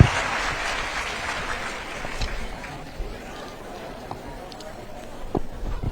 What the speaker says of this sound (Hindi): आप सब जोरदार तालियों से अभिनंदन कीजिए माननीय